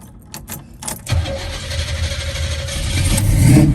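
A 1972 Chevrolet Nova cranks briefly after a few clicks, then catches and fires into a loud, rough idle that grows stronger, heard close up.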